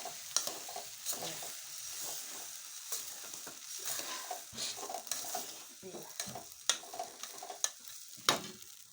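Onions fry in a pan on low gas for a horse gram stir-fry, a continuous sizzle broken by frequent scraping stirs and clinks of the spoon, close and fairly quiet.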